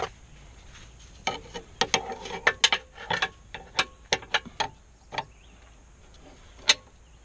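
A pry bar works at a subframe bushing on a 2001 Chevy Cavalier, giving sharp irregular metallic clanks and scrapes close by, clustered then spaced out, with no talking.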